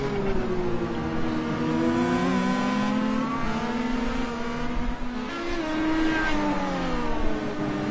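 Race cars at the Road America endurance race, including a Star Mazda and a BMW, with engines droning and shifting pitch as they pass, several cars overlapping loudly and continuously with rising and falling revs.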